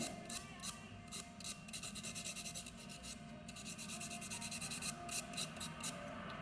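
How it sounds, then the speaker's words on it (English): Rough side of a nail buffer rubbed across a natural nail, a faint, steady rasping scrape repeated in quick back-and-forth strokes, close and quiet with no voices. "Take your buff, use the rougher side first."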